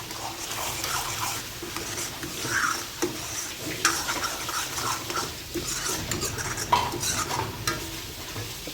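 Fried arbi (taro root) masala seasoned with salt is stirred in a pan, a steady scraping and sizzling with soft utensil knocks running throughout, close and fairly loud with no talk.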